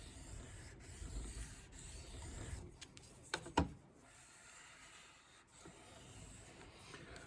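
A drawknife is sharpened on a sharpening stone, with faint, close scraping and rubbing strokes and a few brighter metallic scrapes partway through.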